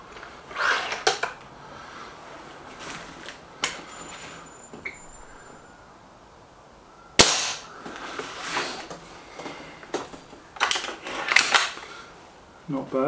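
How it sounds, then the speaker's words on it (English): A Warhawk air gun fires shots at a target: sharp, close cracks spaced several seconds apart, with a person talking between them. "So Warhawk first, 5 shots to centre target."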